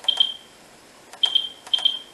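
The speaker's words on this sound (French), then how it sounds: "ça nous met un petit défaut avec de bip" Short high-pitched electronic fault beeps from a Finsecur fire alarm panel sound in three quick pairs, with small clicks between them, against near silence.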